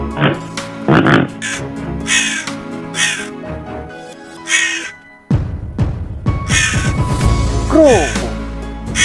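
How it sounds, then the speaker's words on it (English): A crow caws repeatedly in short harsh bursts, loud and near, amid other bird calls and outdoor background noise. "Crow."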